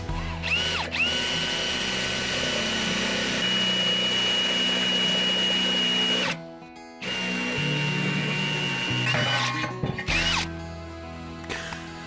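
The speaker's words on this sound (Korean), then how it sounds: "보시에서 나온 드릴 길이 제일 두꺼운 게 잘 안 뚫리거든 원래. 자, 한번 뚫어볼게요." A Bosch cordless drill bores through material with its thickest bit, giving a loud, steady whining motor drone that pauses briefly twice, then restarts and runs on close to the mic.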